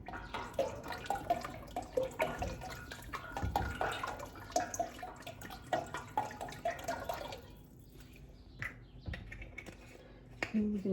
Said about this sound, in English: and put the water in.